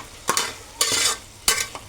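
Chopped vegetables with chili powder are stirred in a hot pan for sambar, giving three scraping sweeps over a soft, steady sizzle.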